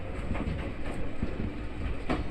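A Kintetsu local train departs Yoshinoguchi Station bound for Kashihara Jingu-mae, its wheels clattering rhythmically on the rails in a steady, close rumble with no voices.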